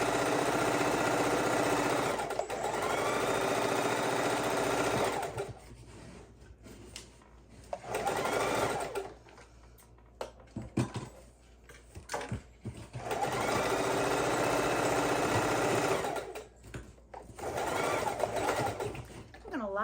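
A sewing machine runs a quarter-inch seam on quilt strips in several long, steady bursts of fast whirring stitching, separated by brief pauses filled with handling noise and quiet talk.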